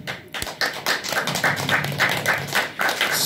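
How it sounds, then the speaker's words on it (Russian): An audience clapping along in rapid, steady rhythmic applause, close and fairly loud, with no talk over it. "если нравится, хлопайте"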